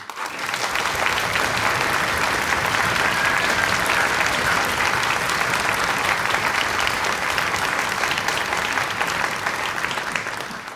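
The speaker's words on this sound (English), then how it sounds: "a special round of applause to say thank you" A large audience at a high school honor orchestra concert claps steadily and loudly throughout, a dense continuous wash of applause with no break.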